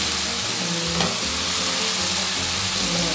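Potatoes frying in a little oil with salt being stirred in a pan for a Kerala potato fry, a loud continuous sizzle with scraping stirs, close and alone.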